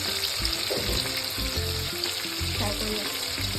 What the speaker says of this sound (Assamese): থাৰ্টি পাৰ্চেণ্ট ফ্ৰাই কৰি ল'লোঁ, বেছি নাই কৰা দেই।